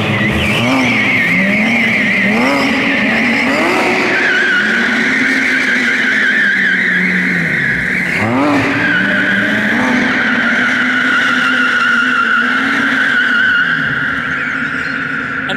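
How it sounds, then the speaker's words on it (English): Porsche 911 R doing donuts close by, with a continuous loud tire squeal and skid over a wavering, revving engine that swells and dips as the car circles. "Pretty standard photo shoot, having a 911R doing a donut around you."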